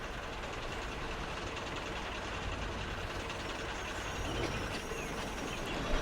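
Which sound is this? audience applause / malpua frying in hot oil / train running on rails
train running on rails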